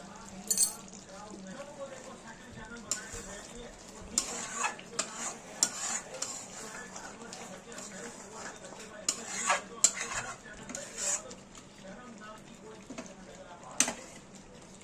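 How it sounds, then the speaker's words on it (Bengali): A chicken chaap gravy is stirred and sautéed in a pan, with repeated metal spoon scrapes and clinks against the pan over a low sizzle, and a voice talks throughout. "এইভাবে 1-2 মিনিট আমরা আরো কষিয়ে নেব।"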